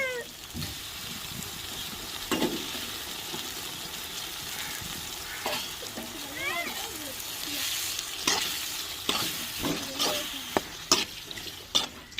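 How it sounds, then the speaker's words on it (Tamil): Masala sizzles and fries in a pan while water is poured in for an eggplant and potato rice dish, a steady close crackle with clinks and scraping stirs throughout. "இந்த மசாலா அடிப்பிடிக்கிற கண்டியில் கண்டி தண்ணி ஊற்றிக்கிறோங்க"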